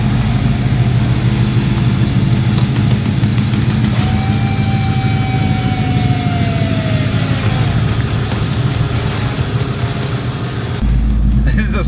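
A Ford Mustang fastback's engine runs loud and close in a steady, rumbling drone, with a brief thin whine rising over it midway.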